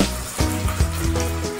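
Chicken pieces added to fried onions sizzle and fry in a pan, giving a steady crackling hiss with a few louder spattering bursts, heard close and alone without voices.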